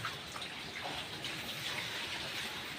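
A stream flows beside a wooden and bamboo pen holding Large White hybrid pigs in a rural province, giving a steady, fairly faint rushing wash of water at a middle distance, with no talking over it.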